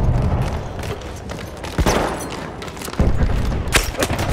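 Gunfire in a Battlefield 1 multiplayer match on Fort de Vaux, with rapid bursts of shots and heavy thuds amid dense battle noise, a few sharp loud impacts standing out.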